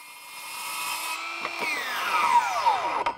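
Circular saw fitted with a 24-tooth blade cutting straight through wood at 90 degrees, a steady close whine with a falling pitch as the blade slows near the end.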